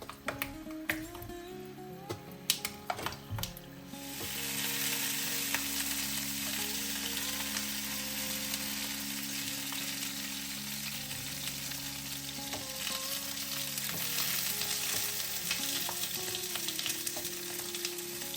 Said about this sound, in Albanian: do të vendosim specat dhe do t'i skuqim në temperaturë mesatare duke i kthyer nga njëra anë në tjetrën